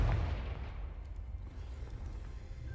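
Fire spell cast in a Harry Potter-style video game going off as a loud booming blast, with a heavy low rumble that decays slowly over a few seconds.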